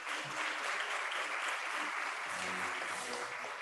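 An audience applauds at a university graduation ceremony, with dense, steady clapping that holds at an even level throughout without pause.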